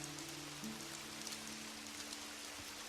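Steady rain falling in a video game, a faint, even hiss throughout with a low tonal hum underneath and no talking.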